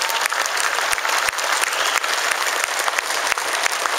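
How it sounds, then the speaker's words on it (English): A crowd of soldiers breaks into dense, sustained applause, many hands clapping loudly and evenly throughout with no talk over it. "you should clap for yourselves for that"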